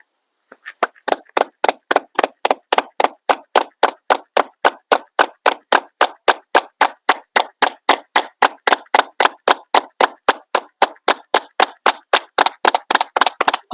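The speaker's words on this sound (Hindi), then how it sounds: "लोग बोलते हैं ताली बजाओ, ताली बजाओ, ताली बजाओ, पट पट पट पट पट पट पट" Steady hand clapping during a yoga and mindfulness session, about forty sharp claps at an even quick rhythm, close and loud, with no other sound.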